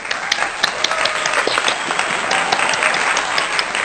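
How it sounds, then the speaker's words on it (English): Online audience at a course recognition ceremony applauding over unmuted microphones, loud, dense, continuous clapping throughout with scattered sharp claps standing out. "If everyone could please take a moment to unmute and show your appreciation via a round of applause."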